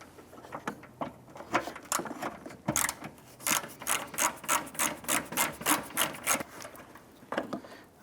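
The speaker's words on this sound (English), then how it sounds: "Remove our third and last bolt up in the top here." Bolt being removed from the windshield washer reservoir of a 2008-2013 Nissan Rogue, a close run of rapid ratchet clicks in rhythmic bursts, speeding into a steady clatter and then trailing off.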